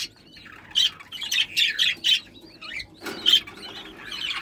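Budgerigar chicks in a freshly cleaned nest give a run of loud, close, harsh squawks in quick bursts, pausing briefly before another burst, with no talking.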